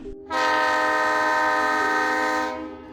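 A loud, sustained horn blast from the small funicular train at Malanggad, Maharashtra, lasting about two seconds, with a steady tone that starts abruptly and fades out at the end, no voices.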